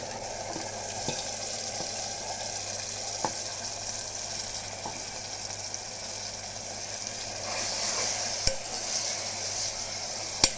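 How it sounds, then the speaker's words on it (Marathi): Minced meat (kheema) fries in oil in a pan with onion and coconut. It makes a steady, close sizzle and is stirred throughout, with occasional sharp clicks of the spoon against the pan. "याला तेलामध्ये चांगलं मिक्स करून भाजून घेऊ खिमा."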